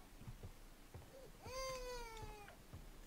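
A cat in a video game gives one long, clear, drawn-out meow that rises and then falls, heard over faint background noise and soft thuds.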